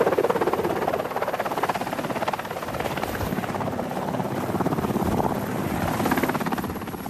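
A military helicopter heard close and loud, its rotor chopping in a fast, steady beat with constant engine whine throughout, and no voices.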